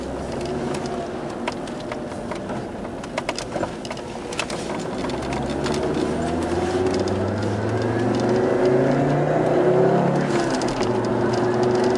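A car engine drones continuously while lapping a racing circuit on a banked ring, heard from inside with steady road and wind noise and a pitch that climbs gradually as the engine speeds up, with no talk.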